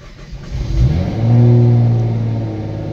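A tuned 2017 Nissan GT-R NISMO running E85 blips its engine, a brief rising rev followed by a stronger sustained revving roar, loud and close, that settles back down.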